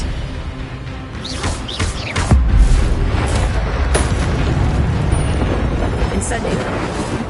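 Expelliarmus disarming spell from Hogwarts Legacy: a series of sweeping, whooshing magic blasts and booming impacts, loud and close, with a heavier thump partway through and a continuous rumbling bed of combat noise.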